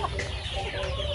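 Chickens clucking steadily on a chicken farm, a dense close chorus of overlapping calls with no pauses.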